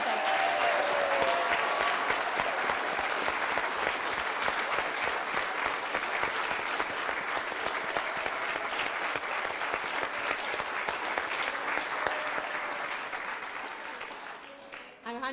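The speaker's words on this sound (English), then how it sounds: "can we give these youngsters, the last men standing, a huge round of applause for what they did" A church concert audience gives a long, loud round of applause for young performers, dense and sustained clapping filling the hall before tapering off near the end.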